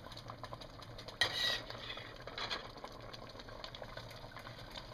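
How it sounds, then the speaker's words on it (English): Meat mixture being stirred into tomato sauce in a pot, giving soft scraping and sloshing with a brief louder clatter of the utensil, fairly quiet and steady with no talking. "And we're just going to stir."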